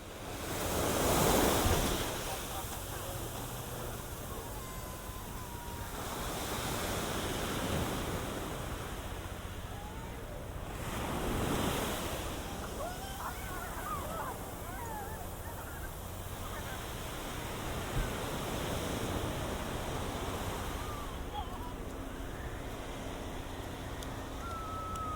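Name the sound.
ocean waves on Waikiki Beach, Honolulu, Hawaii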